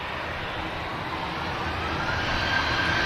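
An EasyJet airliner at Manchester Airport, a continuous jet engine roar that holds steady and swells slightly toward the end, heard from a distance with no talking.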